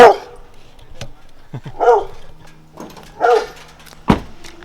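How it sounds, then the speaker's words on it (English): A dog gives several short yips and barks in separate bursts, close by in a quiet space. "Doggo. It's a doggo."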